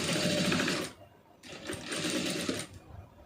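Sewing machine stitching an aari blouse in a home tailoring lesson, running in two close bursts of rapid steady whirring with a short pause between.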